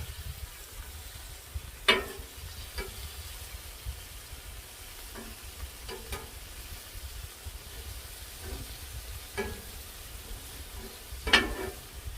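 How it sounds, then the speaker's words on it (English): Bacon sizzles steadily on a flattop griddle at Saturday brunch, with a constant frying hiss broken by several sharp scrapes and taps as strips are slid and flipped with a spatula. "maybe a good time to flip this bacon"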